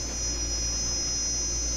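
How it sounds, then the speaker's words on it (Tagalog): A Kolin 2.5hp air conditioner compressor runs with a steady, close, loud hum and a constant electrical drone, unbroken for the whole stretch. "gumana na yung compressor guys oh"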